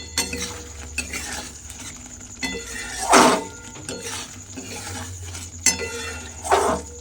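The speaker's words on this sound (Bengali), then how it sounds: "ঘি আর গরম মশলাটা খুব ভালোভাবে মিশিয়ে নিলাম" A spoon stirs ghee and garam masala through a dish in a metal pan, making repeated scrapes and clinks at a steady rhythm, with a few louder knocks against the side of the pan and a faint sizzle underneath.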